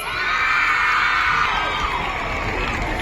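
A crowd at a municipal diamond jubilee 5k run event, with girls and boys among the participants, raises a steady roar of cheering and shouting that stays loud and unbroken throughout, with children's voices prominent.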